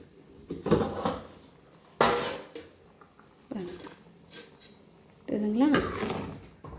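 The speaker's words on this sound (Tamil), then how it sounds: "இப்போ மூடி போட்டுக்கலாம்" Close metallic clanks of a lid set on a pot of cooking sundakkai sambar, several separate knocks and rattles with short pauses between them.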